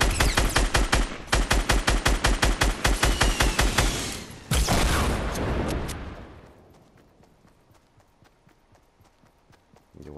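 Rapid automatic gunfire in the video game Fortnite rattles loudly in long, fast bursts, then tails off into fainter scattered shots.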